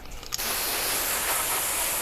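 Water sprays in a steady, hissing rush from a standard garden hose onto a Toyota 4Runner engine, close by, after a short clatter at the start.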